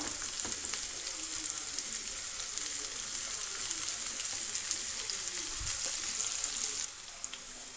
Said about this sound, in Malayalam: ഒരു യെല്ലോ കളർ ആവുന്നത് വരെ ഇതൊന്ന് ഫ്രൈ ചെയ്തെടുക്കാം.